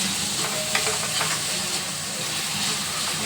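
Tomatoes fry and are stirred for a homemade chicken gravy, giving a loud, close, unbroken sizzle with soft scraping of the spoon, and no one speaking.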